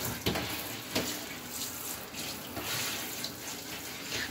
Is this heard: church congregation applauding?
no